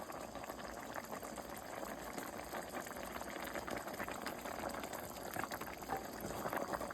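Turnip greens simmer in a pot of water on the stove. The boil is a faint, steady bubbling and hissing that carries on with no talk.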